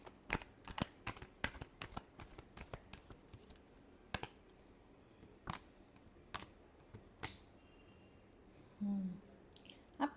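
Tarot cards are shuffled and tapped close by in a quiet room, a string of sharp, separate flicks and riffles with brief pauses between them, then a short soft rustle near the end.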